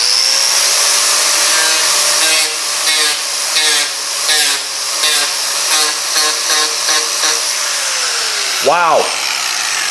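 Makita angle grinder fitted with a flap wheel, grinding off trim studs, whines steadily and loudly up close, with a rhythmic pulsing as the wheel bites and lets off, then winds down at the end.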